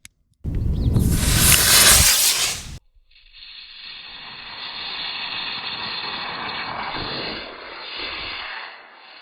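A small homemade missile launches from an Altoids tin launcher with a sudden loud roaring hiss of rocket exhaust for about two seconds, then cuts off, followed by a fainter steady outdoor rush and hum.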